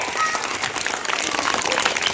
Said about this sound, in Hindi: जोरदार ताली हमारे नेताजी के लिए।